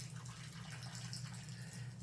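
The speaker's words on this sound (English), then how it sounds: "we're going to water this sucker right now on camera" Water pouring from a can into a potted plant, a soft continuous trickle and splash over a steady low electrical hum, close but quiet.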